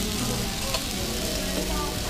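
Okonomiyaki sizzles steadily on a hot griddle, a dense, loud, continuous frying hiss that stays close and even throughout, with no voices.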